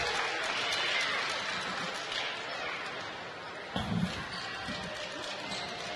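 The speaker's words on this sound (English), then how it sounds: "Crowd giving him a hand" A crowd at a Halifax Rainmen versus Moncton Miracles basketball game gives a broad, steady wash of applause and arena noise, with a brief thump partway through.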